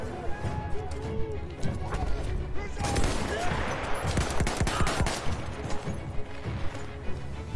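Gunfire in the video game Battlefield 1 as bursts of rapid shots and crashes that build to a dense volley midway, over continuous battle noise, with someone talking.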